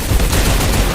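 Loud, close machine-gun fire in a video game, a dense burst of rapid shots filling the whole brief moment.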